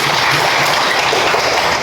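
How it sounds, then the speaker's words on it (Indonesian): Schoolchildren in an elementary classroom clap together, a dense, even patter of applause that carries loud and close from start to finish. "Tepuk tangan dulu"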